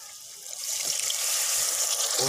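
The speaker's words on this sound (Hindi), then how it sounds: "आपको हम इसमें 1 कप पानी का डालेंगे" A cup of water is poured into a pot of aloo gosht, a steady hissing pour that swells slightly in loudness and runs the whole time without a break.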